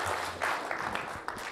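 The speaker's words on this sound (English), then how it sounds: "I think he deserves, and I too, a round of applause" Applause from a conference audience after a tech talk with live demos on VMware NSX and Neutron, a short, moderately loud patter of clapping with a few sharper claps.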